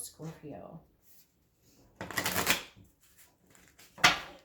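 Tarot cards being shuffled close by in two quick riffling bursts, with a short stretch of quiet between them.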